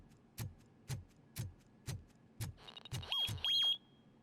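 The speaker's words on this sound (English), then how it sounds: "I'm sure he is setting off every kind of alarm." Repeated alarm beeping in the video game Robocop Rogue City: a run of evenly spaced ticking pulses that give way to rising electronic chirps and a sustained high beep, moderately loud with no talk.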